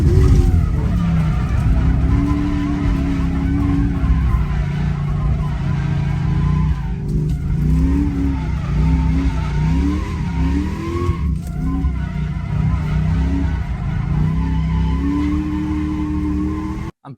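A 1994–2004 New Edge Ford Mustang GT drift car roars close and loud, its V8 revving up and down in repeated surges with tires squealing through long slides, continuous for the whole stretch without talk.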